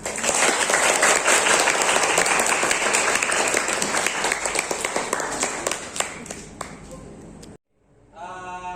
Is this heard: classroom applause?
yes